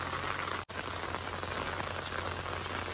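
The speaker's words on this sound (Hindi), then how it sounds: "एबे तो ज्यादा वर्षा होचे देखो पूरा आवाज सुनी पारते हो" Heavy rain falling in a village, a dense, steady roar of drops on surfaces that fills the whole stretch, with one very brief dropout, no voices.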